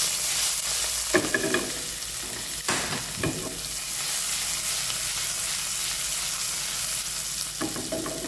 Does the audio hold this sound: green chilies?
yes